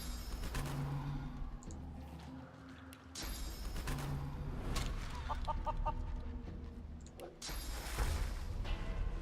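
Chicken clucking in the video game Divinity Original Sin 2: a run of short, close clucks over a steady bed of game music and effects, with no talking.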